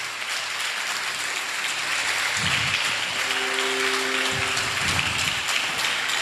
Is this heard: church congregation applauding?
yes